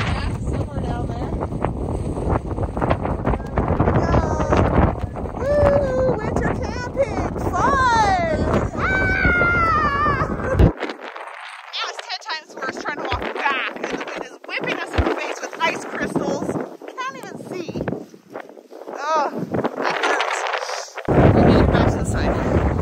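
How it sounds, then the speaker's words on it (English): Strong winter wind howling across the Badlands with blowing snow, loud buffeting gusts battering the microphone, with people talking through much of it. "the wind is really howling out here"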